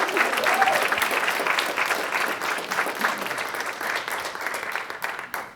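Audience applause at a talk introducing a keynote speaker, a dense steady wash of many hands clapping that fades slightly toward the end.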